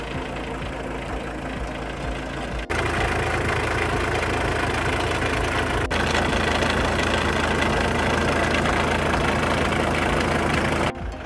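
A heavy diesel engine of a Bobard straddle tractor idles steadily and loudly in a vineyard, a constant low rumble that steps up slightly in intensity partway through, with no voices.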